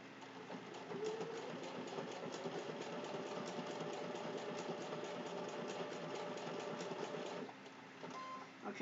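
A sewing machine stitching appliqué on a Halloween placemat runs in a steady, fast whirring hum for about seven seconds, then slows and stops, heard close up and faint with no talk.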